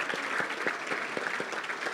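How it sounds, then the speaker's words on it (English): Audience applause at a charity dinner and silent auction, a steady dense round of clapping filling the hall for the full two seconds, with scattered sharper claps standing out. "I want to give Jack one more round of applause."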